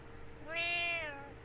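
A single drawn-out cat meow rises and fades over about a second, clear and fairly close against a quiet background.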